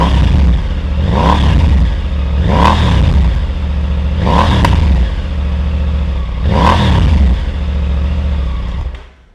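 A Triumph Tiger motorcycle engine is revved in four separate throttle blips, each rising and falling over a loud close idle, with one brief sharp pop from a small backfire before the engine cuts off.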